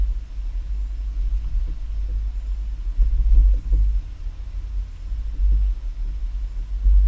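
A 2023 Kia carrying a Swagman XTC2 Tilt two-bike rack rolls over speed bumps, giving a low steady road rumble broken by a few heavier thumps as the wheels hit each bump, with no voices.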